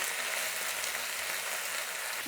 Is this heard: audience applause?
no